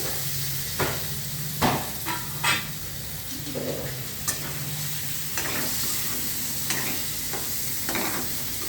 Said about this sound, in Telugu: ఇప్పుడు ఏం చేయాలంటే ములక్కాయలు కూడా వేసేసుకోవాలి